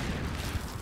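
Explosion and gunfire in a Call of Duty game, a dense, sustained rumble with low thuds and crackling bursts throughout, loud and continuous with no talk.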